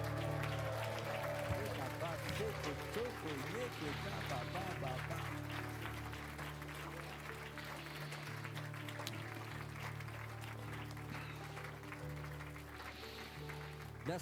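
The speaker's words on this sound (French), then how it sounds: "Applaudissons notre Seigneur" A worship congregation at a French-language live healing service claps along over loud music and singing, a steady wash of hand claps running throughout.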